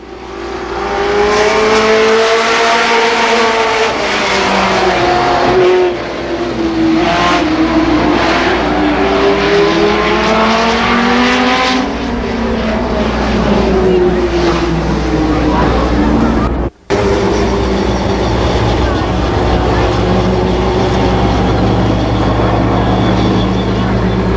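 Late model stock cars race a four-lap dash at Columbus Motor Speedway, engines droning loud and continuous with rising and falling pitch as the pack circles, a public-address voice talking over the roar.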